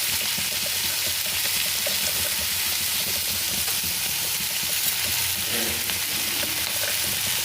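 Tomatoes with rock salt and dried red chilies sauté in hot oil for an idli chutney, making a loud, dense, unbroken sizzle with no voices.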